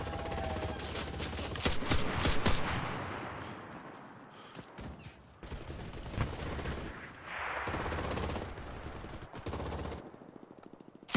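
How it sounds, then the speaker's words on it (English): MG42 machine gun fire in the video game Enlisted rings out in loud, repeated automatic bursts with dense, overlapping shots and brief pauses between volleys. "I'm going after this MG42."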